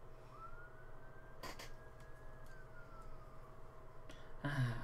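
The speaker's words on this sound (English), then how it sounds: "sirens in the background, that sums it all up around here." Emergency vehicle siren far off in the background, a faint rising and falling wail drifting under quiet room noise with a few soft clicks and a brief louder rustle near the end.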